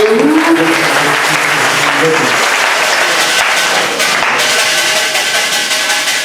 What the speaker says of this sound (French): Applaudissez pour le Seigneur et salut.